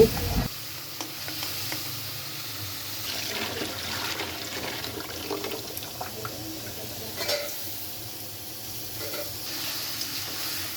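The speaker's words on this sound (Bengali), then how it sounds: "এখন হলো মানে রূপচাঁদা মাছ ভেজে নিচ্ছি" Pomfret fish frying in a pan in a home kitchen, giving a continuous, moderately loud sizzling hiss with faint scrapes and stirring sounds throughout.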